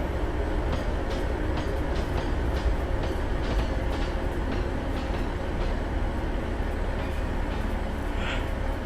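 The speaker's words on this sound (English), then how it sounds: "Train is drowning me out." Loud, continuous rumble and rattle of a Class 156 train running on the Great Eastern Main Line in the video game Train Simulator 2016, with rhythmic clacking, filling the whole stretch without any voices.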